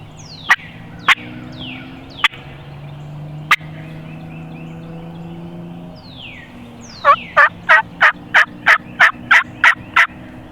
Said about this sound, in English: That guy turkey gobbled once, he gobbled 300 times.